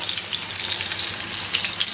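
Food fries in a hot pan with a steady crackling sizzle, close and moderately loud, as pieces are turned over; no voices.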